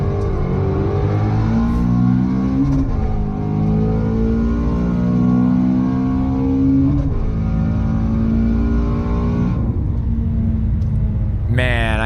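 A car engine revs up in long rising pulls, dropping in pitch at each gear change before climbing again, loud and close throughout.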